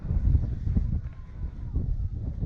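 Gusty winter wind in Japan buffets the microphone with low rumbling bursts that rise and fall, loud and close.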